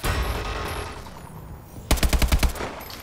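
AK-12 gunfire in a video game, a rapid burst of about six sharp close shots fired in quick rhythm, following a noisier stretch of game sound.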